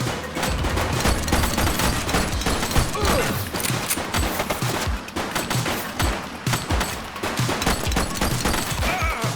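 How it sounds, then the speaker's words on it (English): Dense, continuous gunfire from many weapons in a police shootout in The Precinct, a steady barrage of overlapping shots and bursts filling the whole stretch with no pauses. "She's shooting!"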